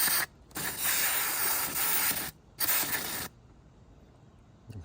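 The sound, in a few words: aerosol cleaner spraying into Honda Rancher 350 ATV carburetor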